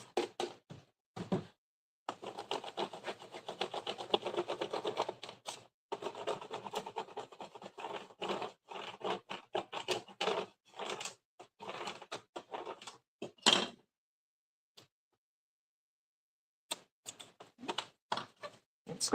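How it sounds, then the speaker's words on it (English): A scraper scraping labels for a hydroponics setup, quiet close-up bursts of rough scratching and rubbing in irregular strokes separated by silent pauses, with no talking. "We're going to use our scraper again."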